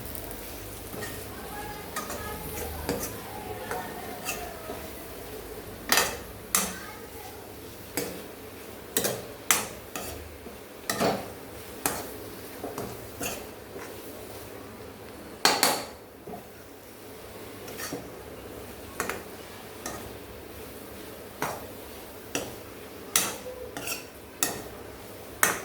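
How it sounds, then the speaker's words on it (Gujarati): A spoon scrapes and clicks against a pan while dry potato sabzi is mixed with fresh coriander, giving irregular sharp taps and knocks that repeat throughout, with a voice speaking at times. "હવે થોડાક ઉપરથી આપણે લીલા ધાણા નાખી દઈશું અને બરાબર મિક્સ કરી લઈશું"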